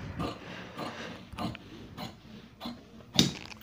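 Scissors cut fabric for women's pajama pants: a series of crisp, evenly spaced snips, fairly close and moderately quiet, with no voices.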